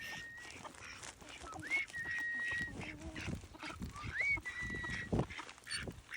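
Waterfowl, rescued male birds kept on a ten-acre rural property, honk and call in short bursts across an outdoor scene, moderately near, with steady background noise and no talk.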